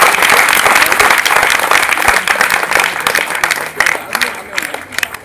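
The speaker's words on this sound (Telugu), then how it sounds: "గట్టిగా చప్పట్లు కొట్టండి వచ్చేవాళ్ళు." An audience claps loudly and steadily at a devotional gathering on cow worship, a dense sustained round of applause that thins slightly toward the end.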